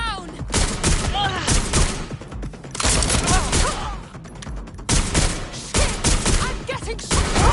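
Dense bursts of gunfire crackle through a shootout in Watch Dogs Legion, loud rapid volleys and shots stacked almost continuously with brief lulls.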